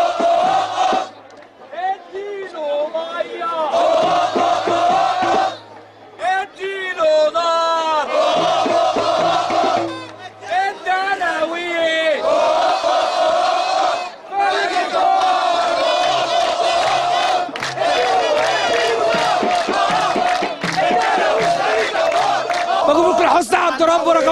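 Kuwaiti football fans cheer and chant together at a match against Ismaily, a loud, continuous crowd roar with rhythmic massed shouting and brief pauses between chant phrases.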